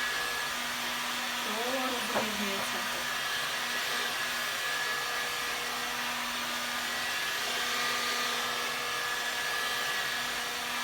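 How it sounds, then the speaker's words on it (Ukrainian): Steady whooshing roar of a hot air gun blowing continuously while heating linoleum for linocut printing, with a brief voice partway through. "цей фен дає приблизно 400 е, чи 600 градусів, я не пам'ятаю точно"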